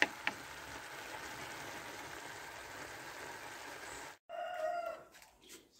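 Free-range chickens and roosters at a rural homestead make a constant background of clucking, then a rooster crows loudly nearby near the end.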